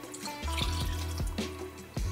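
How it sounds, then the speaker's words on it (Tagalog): Water is poured into a pot of beef, making a close, gurgling splash with rhythmic bubbling pulses and drips over a few seconds. "Then you add your water."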